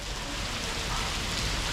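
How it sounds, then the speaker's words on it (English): Heavy rain pours steadily in Kruja, Albania, a dense, even hiss of drops striking surfaces that stays loud and unbroken throughout, with no voices over it. "As the rain continues to fall and gets even heavier"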